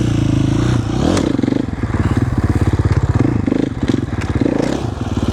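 A 450cc dirt bike engine revving hard near the mic, a loud rapid pulsing thump that rises and falls with throttle blips, with some clatter and scraping.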